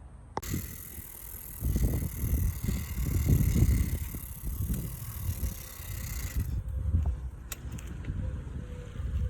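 Ride Out Supply freewheel on an SE Big Ripper bicycle ticking while riding, a fine rapid clicking beneath wind rush and rolling tire noise, with no talk.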